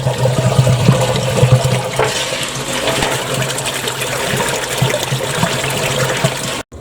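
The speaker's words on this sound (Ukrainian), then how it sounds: "Дивіться, вода з нього вже виходить чистенька." Steady gushing and splashing water flows continuously out of an Audi A4 diesel soot filter being washed, loud and close, with a hollow rushing tone throughout.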